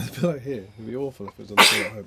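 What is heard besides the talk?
sneeze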